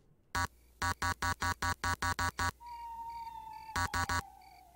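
Dragon's Lair video game beeps from pressing the X button: a rapid series of identical electronic bleeps, a pause with a sustained tone, then three more bleeps, loud and clear with no talking.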